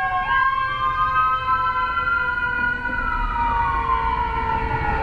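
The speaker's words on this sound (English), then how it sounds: "where that siren coming from?" A loud wailing paramedic ambulance siren sweeps steadily up and down, continuous and fairly close, with traffic rumble underneath and no talking.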